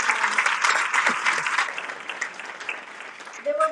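An audience at a charity dinner in London applauds, a dense burst of clapping that starts loud and gradually thins and fades, with some voices near the end.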